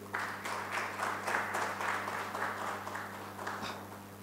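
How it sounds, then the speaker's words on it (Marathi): Audience applause for Rotary's polio eradication work, a broad, steady wash of many hands clapping at moderate volume, sustained evenly for several seconds without voices on top. "आणि तुम्ही रोटरीसाठी ह्या कारणासाठी नक्कीच टाळ्या वाजवल्या पाहिजेत."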